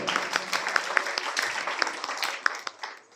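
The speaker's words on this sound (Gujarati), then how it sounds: "તો સમસ્ત ગામજનો હેમુભાઈની બદલ તાળીઓથી એકવાર વંદન કરો" Villagers at a rural education gathering clap together in a brief round of applause, a lively, uneven patter of many hands at moderate distance with a few sharper claps standing out.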